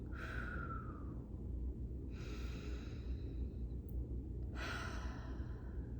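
Slow, audible breaths during a guided mindfulness exercise, a long exhale at the start and two more drawn breaths later, close and soft, with no talking over them.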